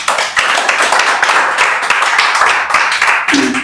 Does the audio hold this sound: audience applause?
yes